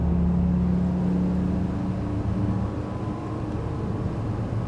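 Twin Volvo IPS 650 engines of 480 horsepower each push a Sargo 45 motor boat up to speed at sea, a deep steady engine drone with a low hum that eases slightly as it builds.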